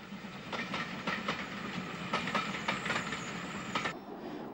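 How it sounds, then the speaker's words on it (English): An Irish railcar train runs along the track, its wheels beating a steady clickety-clack of rhythmic clicks over the rail joints above a low rumble and hiss, fairly close, ending abruptly. "The 2:40 p.m. train to Westport is formed of rail cars."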